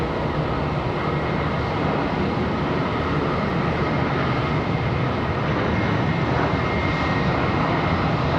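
An airliner lands on runway 36 left at Charlotte Douglas International, its engines a loud, dense, continuous roar that stays steady and close, with no talk.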